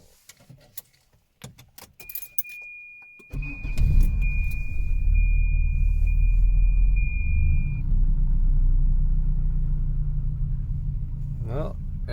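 Keys jingle and a high whine sounds before a Volvo 240 engine cranks and catches, then settles into a loud, steady idle rumble close by.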